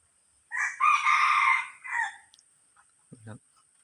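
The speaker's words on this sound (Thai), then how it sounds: "ดี๋ยวรอดูว่าขันหรือเปล่านะครับ" A rooster crows once, fairly close and clear, with a long drawn-out call lasting about a second and a half, followed by a brief clucking sound near the end.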